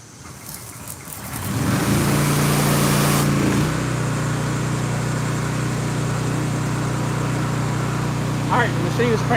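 A gas-powered pressure washer engine is pull-started for fence washing outdoors; after a brief rising roar it settles into a loud, steady idle that runs continuously to the end, with faint chirps over it.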